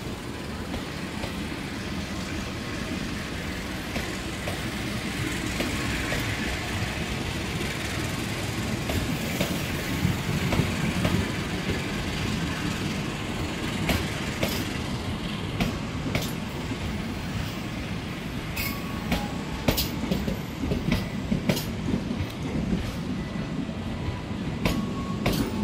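Two trains pass at a busy Jakarta station, a long, loud, continuous rumble with clattering wheels and scattered sharp metallic clicks and squeals growing toward the end.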